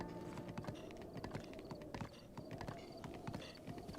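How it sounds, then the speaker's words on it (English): Horse hooves clop across uneven terrain in Zelda Breath of the Wild, a quick, irregular patter of close, crisp game footfalls running continuously without speech. "Using the horse has its own problems, especially navigating terrain."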